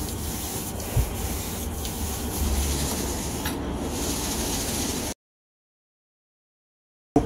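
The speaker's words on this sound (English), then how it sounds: "And they can dust the particles off." Dust brush sweeping fine particles off a rough plywood surface, a steady close rasping brush noise with a few scratchy strokes, lasting about five seconds before stopping abruptly into silence.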